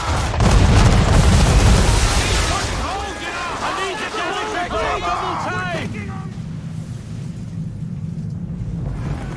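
Ship cannon broadside from a naval battle in Assassin's Creed 3, heavy booming blasts loud at first, then rumbling and fading, with shouted crew voices and whistling tones over the low roar.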